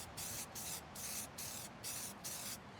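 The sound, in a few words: spray paint can spraying paint onto a Mazdaspeed Miata spoiler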